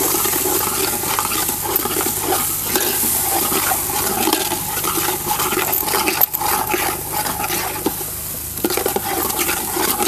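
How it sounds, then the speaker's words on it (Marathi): A spice masala with turmeric powder is stirred and sautéed in a pan, giving a steady, fairly loud sizzle with a constant frying hiss and faint scraping that carries on unbroken, with no speech. "आपल्याला सगळं मसाला चांगलं असं परतून घ्यायचं"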